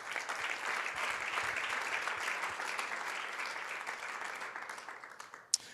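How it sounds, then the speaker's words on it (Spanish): A church congregation applauds during a Sunday sermon, a dense, sustained wash of many hands clapping that holds steady for several seconds before thinning out and fading, with one sharp clap near the end. "Un aplauso fuerte a Cristo."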